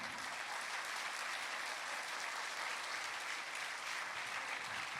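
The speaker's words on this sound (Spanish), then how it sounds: "Dele un aplauso al Señor." Church congregation applauding in a steady, even wash of clapping, fairly faint and distant, with no voices over it.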